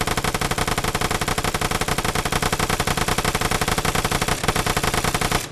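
A KK62 light machine gun fires one long unbroken burst in the shooter game Vigor, rapid even shots hammering loud and close for over five seconds before cutting off.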